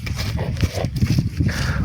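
A lean working mare walking, her hooves stepping in a steady clip-clop rhythm close by against rough outdoor background noise.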